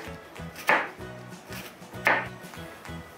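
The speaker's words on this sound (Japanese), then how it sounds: "じゃあこの玉ねぎを切り刻んでいきます" A knife chops an onion on a board for a chicken pilaf, with soft, irregular cutting taps and two sharper knocks, close and quiet.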